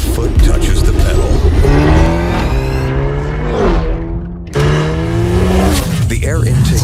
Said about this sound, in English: The acceleration starts as soon as your foot touches the pedal.